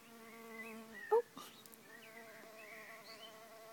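Mason bees (Osmia rufa) buzz around a bamboo bee hotel where they seal nests with mud, a steady faint droning hum with a brief louder buzz as one flies close.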